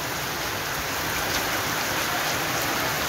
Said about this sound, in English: Rain is falling